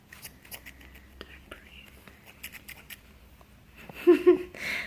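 Scissors snipping yarn for pom poms, quiet scattered cuts and rustling, then a couple of louder crisp snips near the end, under soft whispering.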